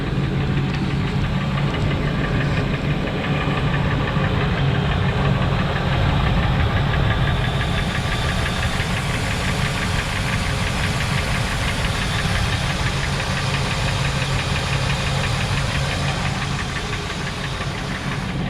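Engine of a 2000 Ford F250XL long box pickup running steadily, a close, loud, continuous mid-range rumble with a rapid even knocking rhythm throughout, no voices.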